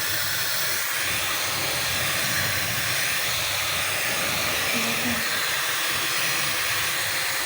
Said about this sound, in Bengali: এটা ঠান্ডা বাতাস আমি দিচ্ছি, যেটা আমার চুলটা তাড়াতাড়ি হবে।